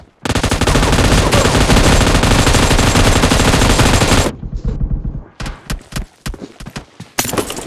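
Sustained automatic gunfire in PUBG Mobile pounds loudly for about four seconds, then breaks into scattered single shots and short bursts with gaps between them.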